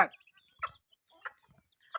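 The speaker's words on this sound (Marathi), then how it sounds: "एवढ्या कोंबड्या येत्या" Hens give a few short, soft clucks spaced out in an otherwise quiet setting.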